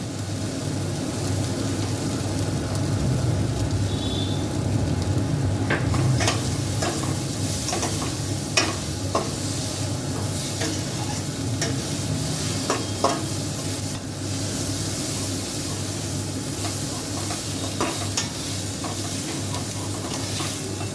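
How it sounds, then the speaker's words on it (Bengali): Gobindobhog rice stirred and fried in oil in a pan, a steady close sizzle with repeated scraping strokes of a spatula running throughout, no voices. "এবার আমি এর মধ্যে গোবিন্দভোগ চালগুলো দিয়ে দেবো"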